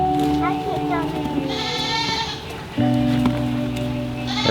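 Goats bleat several times nearby, wavering cries overlapping one another, with rain and faint talking in the background.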